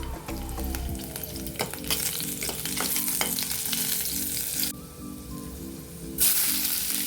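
Garlic fries in oil in a pan for a wild leafy vegetable dish, crackling and sizzling steadily up close with occasional stirring clinks.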